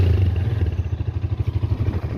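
A new motorcycle engine idles steadily nearby, a loud, even low-pitched chug with a slight mechanical clatter and no speech.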